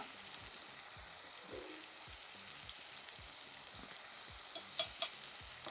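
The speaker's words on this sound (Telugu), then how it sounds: "చెప్పాను కదా ఉప్పు వేస్తే తొందరగా వేగుతాయి ఉల్లిపాయలు" Onions frying with salt in a pan for brinjal tamarind curry, a steady soft sizzle with faint crackles and occasional stirring clinks, close by and with no talking.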